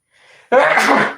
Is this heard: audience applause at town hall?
no